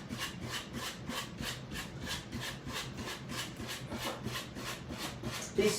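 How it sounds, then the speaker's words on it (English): Sandpaper rubbing back and forth on wood in a steady, even rhythm of about two strokes per second, close and moderately loud, with no talk. "Here's a different part of sandpaper, maybe. I've used this sandpaper a lot."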